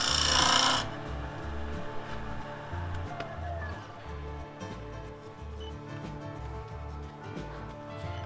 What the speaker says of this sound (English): When I do hit that outside edge, I switch into a shear scraping.